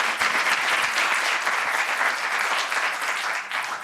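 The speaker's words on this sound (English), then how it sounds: "Let's have a round of applause for our panelists." A room full of people claps for the panelists at the close of a talk on vaping, e-cigarettes and JUUL, a loud continuous burst of applause lasting a few seconds without voices.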